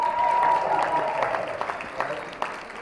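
Audience applause at a business gathering, a dense steady patter of many hands clapping that swells early and then slowly tapers, with a few sharper claps standing out near the end.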